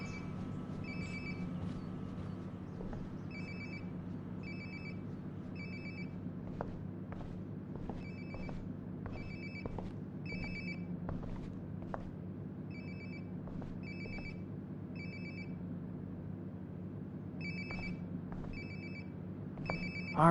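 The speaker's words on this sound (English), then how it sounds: "Sounds like my phone is definitely nearby." A phone rings nearby in Life is Strange: Before the Storm, repeating in steady bursts of a two-tone electronic chime over a low ambient game hum, with soft footsteps between the rings.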